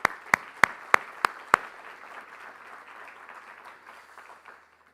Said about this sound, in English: let's give Brenda a big round of applause